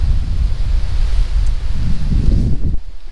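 Wind on a mountain hiking trail above 3,000 feet in the Foothills, a loud continuous buffeting rumble against the microphone that drops away at the very end.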